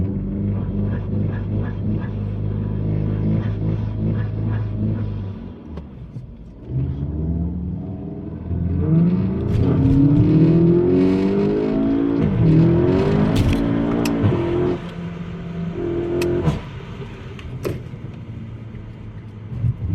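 A car sits idling with a low rumble, then launches hard under launch control, the engine note climbing through several loud accelerating pulls and shifts before easing off.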